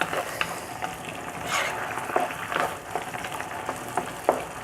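Okra sauce (sauce gombo) sizzles and simmers in a pot, a low bubbling hiss broken by scattered stirring clinks and scrapes, with no one talking.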